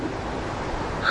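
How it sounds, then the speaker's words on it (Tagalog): Strong ocean waves at night near an abandoned resort, a steady close wash of surf and rushing water with wind noise, no voices. "kita niyo yung alon. Malakas, diba?"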